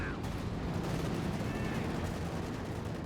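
Machine gun fire in a World War II strategy game, dense and continuous, with battle noise layered over a low, rumbling bed throughout. A voice talks over the shooting.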